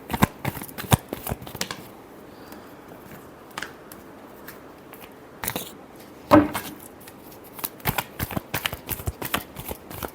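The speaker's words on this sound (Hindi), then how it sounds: "last shuffle" A deck of tarot cards is shuffled by hand in quick riffling bursts separated by short pauses, crisp and close.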